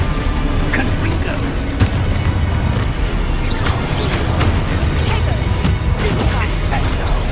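Confringo blasting spell explosions in Hogwarts Legacy, a dense, continuous roar of loud booms and crashes layered with other game effects.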